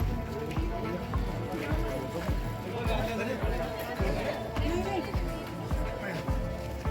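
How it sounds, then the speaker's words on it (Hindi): A large, packed crowd of pilgrims at the Khatu Shyam temple, heard as continuous close babble and shuffling with rhythmic thumps and clatter mixed in, people talking throughout. "हम खाटू श्याम जी पहुंच गए हैं और भीड़ बहुत ज़्यादा है"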